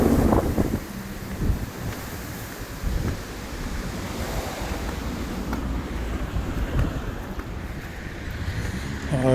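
North wind blowing at the harbour of Canet-en-Roussillon, a strong, steady roar buffeting the microphone, with gusts swelling and easing throughout and no talk.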